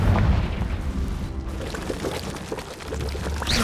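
Blasts of the Confringo spell in Hogwarts Legacy roar as a dense, continuous rumble, loud and close throughout, with whooshing noisy bursts layered over a low booming bed and no voices.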